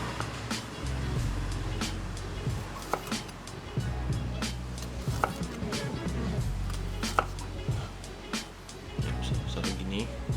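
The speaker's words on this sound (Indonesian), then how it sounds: "Oke, yang ini kita potong besar-besar." Garlic cloves chopped into large pieces with a knife on a board, a string of sharp, irregular taps close by over a low background rumble, with speech in parts.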